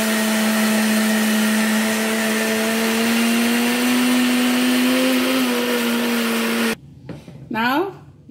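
A blender grinding soaked urad dal into paste, a loud steady whine that runs continuously before cutting off abruptly, followed by a brief voice.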